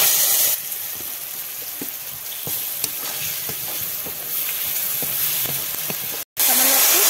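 Chopped tomato with coriander powder and turmeric sizzles steadily in a pan close by. Light scraping and tapping from stirring are heard, and the sound cuts out briefly near the end.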